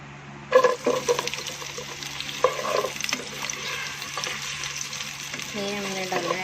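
Chopped onions hit hot oil in a pan and sizzle steadily, broken by the scrape and clatter of a spoon stirring them. Close and moderately loud, the sound carries faint background tones.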